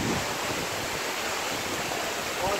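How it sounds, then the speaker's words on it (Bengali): A large waterfall roars in a continuous, loud, even rush of falling water, close and unbroken, with no voices. "বিশাল ঝর্ণা।"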